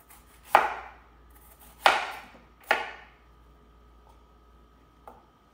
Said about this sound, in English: we're just gonna chop it into equal chunks.